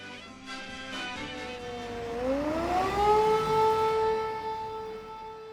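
An air raid alert siren in Ukraine wails loudly, its pitch sliding upward and then holding a steady, rich tone that carries over faint background noise.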